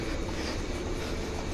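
Early-morning ambience at Goregaon railway station in Mumbai, a quiet platform with a steady low rumble and broadband hum of rail noise, continuous and even, with no voices.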